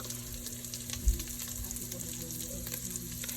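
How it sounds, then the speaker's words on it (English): Sausage meat browns in a pan, sizzling steadily and softly up close with a faint crackle, one small clack partway through, no voices. "at this point, your meat is going to start browning"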